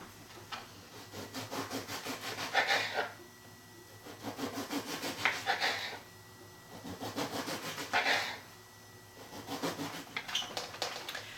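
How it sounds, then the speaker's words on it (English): A knife saws through a whole French baguette in steady back-and-forth strokes, with crusty rasping bursts roughly every two to three seconds, close and alone. "I have 1 whole French baguette. I'm going to be slicing this into 1/2-inch thick pieces on the bias."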